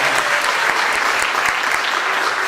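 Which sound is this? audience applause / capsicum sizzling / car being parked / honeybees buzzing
audience applause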